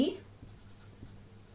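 Chalk or marker scratches on a board during a Class 9 geometry lesson on congruent triangles. A few quick, faint strokes tap and scrape in a short rhythmic run, with a soft voice nearby.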